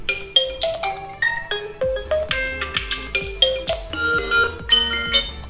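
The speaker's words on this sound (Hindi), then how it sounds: "तो यहाँ से हम लोग आते हैं रिंगटोन्स में" A melodic Realme XT smartphone ringtone plays bright, plinking notes over a steady rhythmic bass pulse, loud and close, with no talking.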